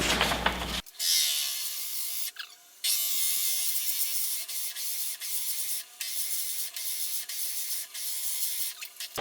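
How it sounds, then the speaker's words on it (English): A bog oak pepper mill blank is bored out on a woodturning lathe, giving a steady, hissing cutting noise that runs almost unbroken after a brief opening sound, with a couple of short dips. "So let's go ahead and bore it out."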